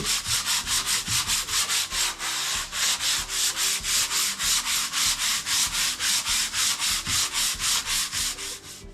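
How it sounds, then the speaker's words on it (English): A sanding block rubs rhythmically back and forth across a wooden workbench top, steady rasping strokes repeating about three times a second, close and loud. "I'm going to run just the sanding block over it just to roughen it up"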